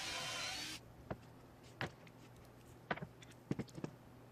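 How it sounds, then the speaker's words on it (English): A power drill whirs loudly into wood for a brief burst, drilling pocket holes, followed by several sharp clicks and taps in the quiet afterward. "Now I'm using the pocket hole system to drill the pocket holes"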